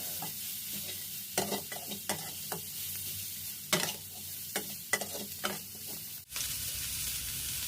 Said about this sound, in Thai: ใส่กระลำปลีหั่นฝอย 200 กรัมครับ